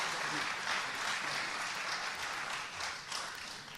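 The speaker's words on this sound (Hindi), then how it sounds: "आपकी तालियों ने इस बात की गवाही दी है कि विनीत चौहान आपके दिल में उतरे हैं।" Audience applause at a Hindi poetry recital held for Independence Day, a dense sustained clapping from a large crowd that stays fairly steady and fills the whole stretch without any talk.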